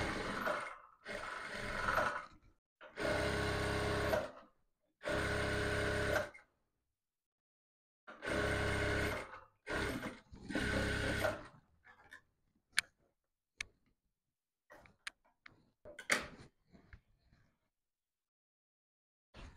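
A sewing machine stitching a sleeve seam on a structured cone sleeve, several loud close bursts of rapid stitching separated by pauses, followed by quieter scattered clicks and handling of fabric.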